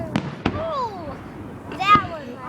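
Fireworks at a 2011 display: two sharp bangs early, then whistling rockets sliding in pitch and a crackling burst, heard at moderate distance with children talking excitedly throughout.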